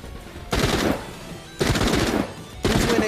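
Loud automatic gunfire in the video game The Walking Dead: Saints and Sinners, three sustained bursts separated by short pauses, close and dominant with no talking.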